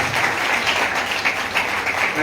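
Wedding guests applauding in a church, a steady, dense wash of clapping that stays loud throughout.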